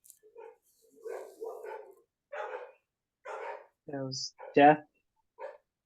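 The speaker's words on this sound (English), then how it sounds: "Sorry for the barking." A dog barks a couple of times in sharp, close yelps between stretches of someone talking indoors.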